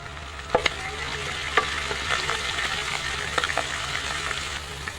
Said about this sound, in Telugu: మిరపకాయలు వేస్తున్నాను. ఇవి ఇంకా వేయించాలా బాగా.